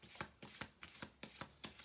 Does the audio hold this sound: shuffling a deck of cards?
yes